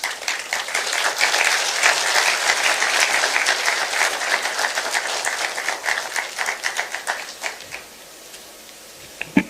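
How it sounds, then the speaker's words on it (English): Audience applause at a launch event attended by President Ruto, a sustained crowd of clapping hands filling the room before thinning out into scattered claps. "Another round of applause for Madam Ahuna."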